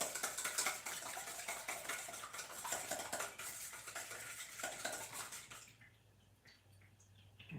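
Egg wash whisked in a bowl, rapid close clinking and sloshing of the whisk against the sides, fading into quieter scattered taps toward the end.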